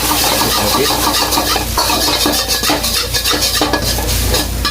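Loud, continuous sizzling of fried rice frying in a hot wok, with scraping and stirring clatter throughout, close up and no talking.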